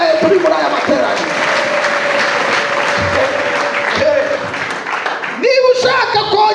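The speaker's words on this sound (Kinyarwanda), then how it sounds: "Dukomere Imana amashyi." A church congregation claps together at a prayer gathering, dense sustained applause from a crowd, loud and close, carrying on under a preacher's voice before a brief lull and a fresh burst.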